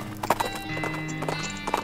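Clip-clop of two cart horses hitched to a wagon in the West of Loathing video game, a steady close hoof rhythm with a brief whinny and game music behind.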